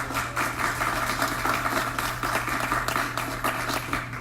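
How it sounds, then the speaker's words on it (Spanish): Applause from an audience at a public presentation on freedom of expression in Nuevo León, a dense steady patter of many hands clapping at moderate distance, continuing evenly throughout with a low hum beneath. "Un aplauso, por favor."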